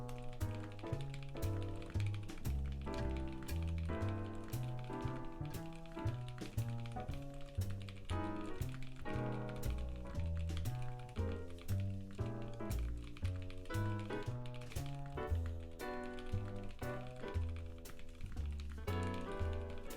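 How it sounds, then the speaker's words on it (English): Rapid, continuous keystrokes on a Tofu65 custom mechanical keyboard during a typing test, close and crisp with an even clattering rhythm and no voices over them. "Now let's do another typing test."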